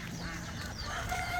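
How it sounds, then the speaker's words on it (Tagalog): Ducks quacking and honking faintly outdoors, a few scattered calls over a steady background hum. "Itik oh."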